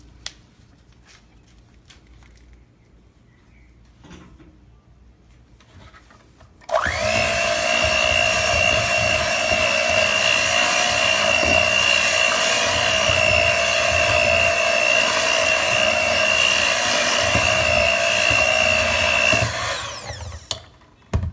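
An electric hand mixer beats red velvet cake batter, a loud steady whine with a strong motor hum that starts abruptly and runs without a break for about thirteen seconds, then stops.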